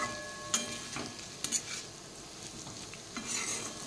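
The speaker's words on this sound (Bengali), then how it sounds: "আলু ভাজাটা একটুখানি নাড়িয়ে নিই" Potatoes frying in a pan are stirred, giving a soft continuous sizzle with several scraping strokes and light clinks of a utensil against the pan, close and fairly quiet, with no talk.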